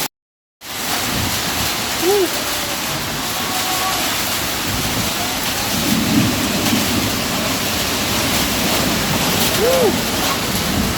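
A hailstorm with rain, thunder and wind in Cimahi, Bandung, West Java, makes a dense, loud, continuous roar of falling ice and water. A faint voice rises briefly above it.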